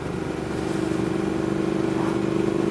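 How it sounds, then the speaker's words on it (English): Triumph Thruxton R motorcycle riding on the road with stock catalytic converter and silencers fitted, a steady continuous engine drone that builds slightly in loudness, heard close with no talk. "Bike sounds amazing."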